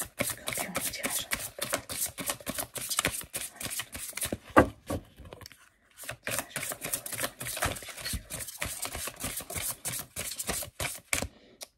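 Tarot cards shuffled and drawn by hand, a dense run of rapid crisp flicks and slaps up close, broken by a brief pause before the riffling resumes, loud and with no talking.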